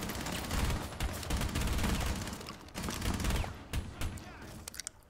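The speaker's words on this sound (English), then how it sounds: "Oh no, I accidentally shot the Ella in the face." Gunfire from the Rainbow Six Siege video game comes as dense, loud, rapid bursts of shots that crackle almost continuously, then thin out to a few sharp reports near the end.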